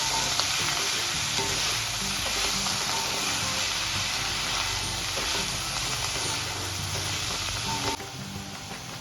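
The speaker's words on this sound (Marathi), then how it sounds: "आता आपण परतून घ्यायची अगदी व्यवस्थित तेलामध्ये।" Fenugreek leaves sautéing in oil for Maharashtrian methi bhaji give a steady, dense sizzle with stirring scrapes throughout, close and fairly loud, easing slightly near the end.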